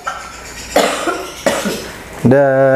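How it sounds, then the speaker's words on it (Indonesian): Two harsh, close coughs from a woman a moment apart, followed by a voice starting to speak right after. "bojoku panas-panas malah batuk"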